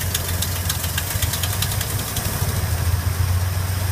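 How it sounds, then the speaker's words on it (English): A 1971 International Harvester Scout II engine idles steadily nearby, its distributor a little loose, a low throbbing hum with a regular ticking, knocking rhythm on top, no voices. "Listen to how the engine runs."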